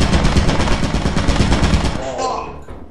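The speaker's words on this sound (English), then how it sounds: "Bro, it's a turret in the fog." A turret in the video game Lethal Company fires a loud, rapid, sustained burst of automatic gunfire at close range for about two seconds, then cuts off into a fading mechanical whir.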